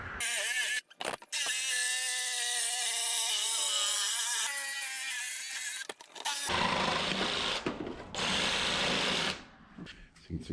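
A drill with a 2 1/8 inch hole saw whirs at a steady pitch near the mic, then switches to harsher grinding as it bites, with short pauses between runs, during a jon boat build.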